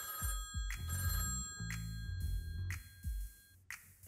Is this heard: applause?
no